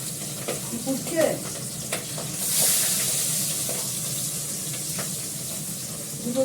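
Big fish sliding into hot oil in a pan, setting off a loud, steady sizzle that swells and then holds, with light clinks and stirring noises close by.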